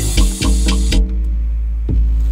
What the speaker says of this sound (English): This is the bass, like 808.